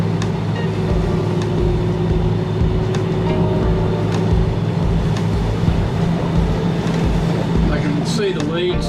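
Marine motors drone steadily with a low hum while a boat runs in over a flat coastal bar between Port Macquarie and Laurieton; the engine noise is continuous and close, with no speech.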